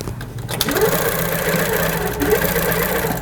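HQ Pro-Stitcher longarm quilting machine stitching a row across a quilt, a steady, fast whirring motor hum with rapid needle chatter, close and continuous.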